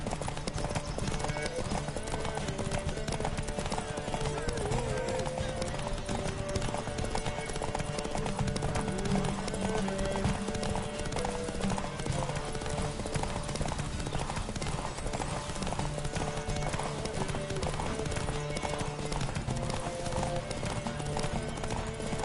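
A horse galloping in a race in The Witcher 3 video game, hooves beating in fast, steady clip-clop rhythm throughout, under game music and occasional spoken voices.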